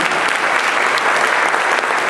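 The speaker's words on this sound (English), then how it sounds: "Another round of applause for that wonderful performer." Dense, loud audience applause for a performer at a harbor music festival concert, continuous and even from start to finish with no talk.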